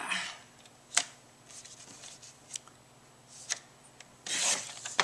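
Scissors snip through patterned paper to cut it in half for coin envelopes, giving a few sharp, quiet cuts and soft rustling close by, with a longer scraping cut near the end.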